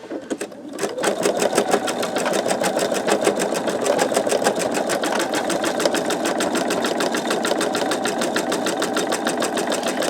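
Embroidery machine filling in a sugar skull design over its outline stitches, a loud, close, steady rapid needle chatter starting after a brief moment and running unbroken to the end, alone without talk.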